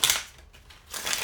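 A deck of tarot cards being shuffled, two short crisp riffling bursts at the start and end separated by a quieter pause, close and with no talking.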